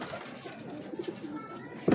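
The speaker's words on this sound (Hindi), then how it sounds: "ये सियालकोटी कबूतर है, जो जिसे चूहा कहते हैं, चूहे कबूतर है" A Sialkoti pigeon, the kind called chuha, coos in low soft murmurs close by, with a louder burst right at the end.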